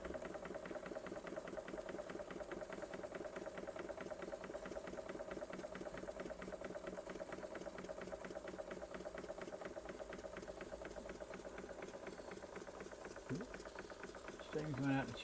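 A restored Bing 130/382 poppet valve model steam engine runs steadily up close, with a rapid, continuous mechanical chatter and hum, and brief knocks near the end.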